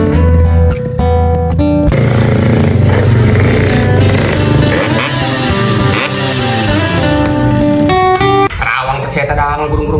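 A motorcycle engine runs at a steady, loud idle close by, with a few brief changes in pitch, while people talk over it in a Sundanese village comedy scene.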